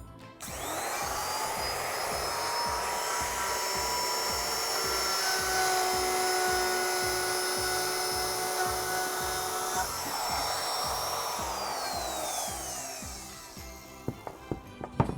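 A rotary cutter spins against wood veneer, giving a steady high whine over a low rapid chatter, loud and continuous for about eleven seconds before winding down, with a few sharp clicks at the end.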